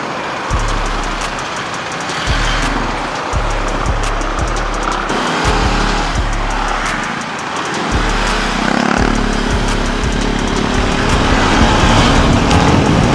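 A UM Scrambler 150 motorcycle rides along with a loud, close, steady engine drone that breaks and resumes several times as the rider changes gears, with rushing wind noise throughout.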